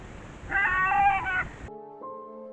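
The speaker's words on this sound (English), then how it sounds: "we can also hear the doe making a distinct whining sound" A doe whining while a buck chases her, heard as a loud, nasal, wavering cry lasting about a second, followed by a sharp cut to a quieter steady tone.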